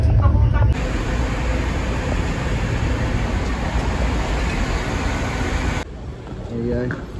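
Steady rumble and broadband rattle from inside an old train carriage in motion on the line to Bristol, continuous and loud, with a brief change in tone near the end.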